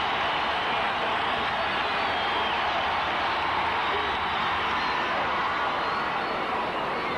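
A packed stadium crowd roars at a 1981 ALCS Game 3 Yankees baseball game in the ninth inning with the bases loaded. The broad, unbroken cheering holds loud and steady throughout, with no distinct voice on top.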